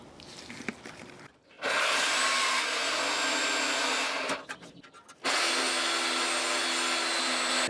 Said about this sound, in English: So I'm going to try and sneak a Sawzall up there.